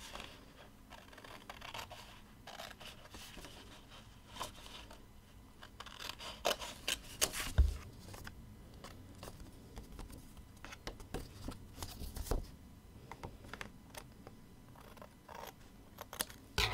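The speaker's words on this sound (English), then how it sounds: "just flip it over and cut the extra away" Scissors trim the excess from a card, a long run of close, quiet snips and scratchy paper sounds in an irregular rhythm, with no talk.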